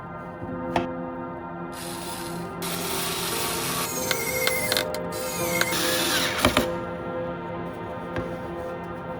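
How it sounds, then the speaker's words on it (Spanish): Screws are driven into a wooden block with a power driver in several sustained whirring runs, broken by short pauses and sharp clicks, close and loud with no talking. "Atornillaremos este suplemento de madera con estos dos tornillos."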